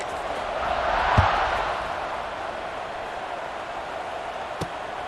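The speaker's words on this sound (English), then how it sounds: "this crowd is buzzing after that last score" A stadium crowd in the College Football 26 video game, Virginia Cavaliers against Virginia Tech Hokies, keeps up a steady broad roar after a score, with a couple of sharp thumps and no clear voices.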